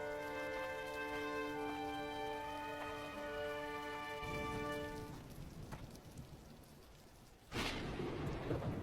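Cartoon rain pours steadily under a sustained musical tone at first, then the tone falls away, leaving a broad rushing downpour until a loud thunder crack bursts near the end.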